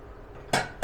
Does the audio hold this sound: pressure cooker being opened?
yes